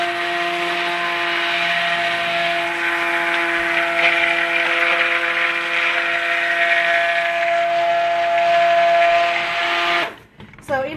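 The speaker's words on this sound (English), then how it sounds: "I'm gonna mix this up real quick so it doesn't get loud" A butter and oil blend whirs in a blender or mixer with a steady, loud motorized drone and strong harmonic tones, running continuously for about ten seconds before cutting off abruptly.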